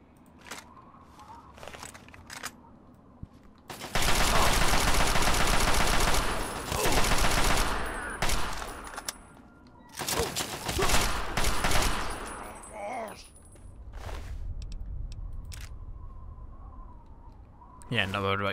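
Bursts of automatic assault rifle fire in Fallout 3, loud rapid volleys in several long stretches between quieter moments with faint footsteps and ambient sound.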